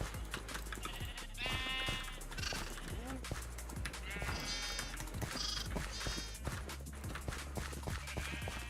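Sheep bleat repeatedly in Minecraft, several short wavering calls scattered across the stretch over busy game sounds and ongoing talk.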